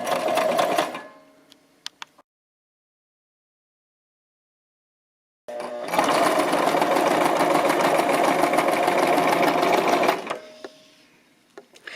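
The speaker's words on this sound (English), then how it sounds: "we're going to press our pedal, and we're just going to sew gently down and around that seam" A Brother LX-3125 sewing machine stitches around an apron seam, a steady close mechanical whir in two bursts, the second lasting about four seconds, separated by silence.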